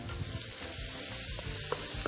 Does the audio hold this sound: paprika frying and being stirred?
yes